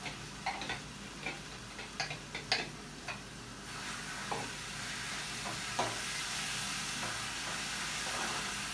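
Onions and cumin tempering in hot oil in a home kitchen pan: a run of crisp pops and ticks at first, then an even, steady sizzle that settles into a constant hiss.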